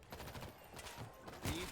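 A shotgun fires at zombies in the zombie-horde shooter World War Z, with a few faint, spaced blasts over a quiet game background.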